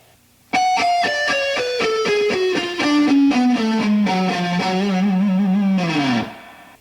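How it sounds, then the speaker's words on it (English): Distorted electric guitar riff segment: after a short pause a rapid descending run of picked notes ends on a shaking, vibrato-held low note that dips and fades, loud and unaccompanied. "The fourth part of the riff sounds like this."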